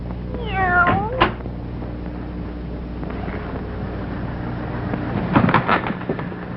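In an old radio drama, a black cat lets out a couple of sharp meows near the start, followed by a low steady hum and a few thumping knocks later on.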